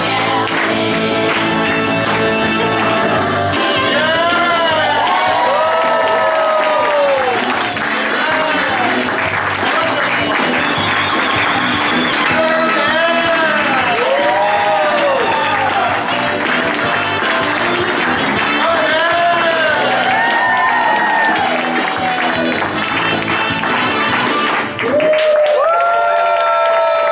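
Applause, clapping and cheering from a live show audience, loud and sustained for most of the stretch, with whoops and shouted voices rising through the crowd noise before it drops away near the end.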